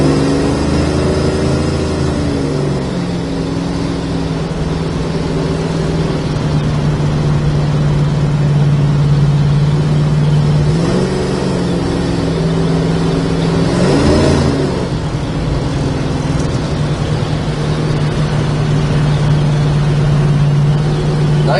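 A 1972 Plymouth Duster cruising down the road, its engine droning steadily with a couple of brief revs and shifts in pitch, continuous and fairly loud from inside the car.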